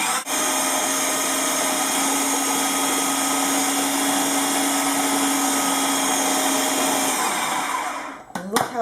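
An electric mixer whirs steadily and loudly at a constant high pitch as it beats vegan chocolate brownie ingredients, then winds down with a few clattering knocks at the end.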